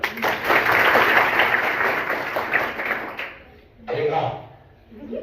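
A school audience at an intermediate college claps hands loudly in a dense burst that cuts off abruptly, followed by a second shorter round of clapping after a brief pause.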